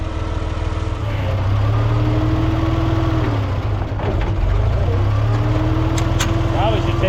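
An IH 460 tractor engine working on a driveway, a steady low rumbling drone close by that rises and falls slightly in pitch, with a few faint knocks near the end.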